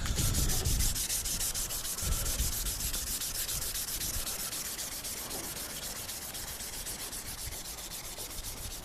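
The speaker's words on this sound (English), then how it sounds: "that surface rust, just use CRC and 1200 sandpaper" Fine 1200-grit sandpaper is rubbed in quick, steady strokes over metal carving tools to take off surface rust, a close, continuous scratchy rasp with no talking.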